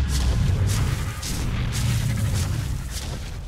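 Deep booming cannon shots in the Ark Survival Evolved video game, a heavy sustained low rumble with repeated muffled blasts, loud and without talk.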